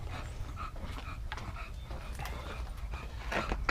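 Heavy, steady panting from a dog close by in a 1974 Volkswagen Thing, with rapid breaths repeating over a constant low rumble and a few brief whimper-like sounds.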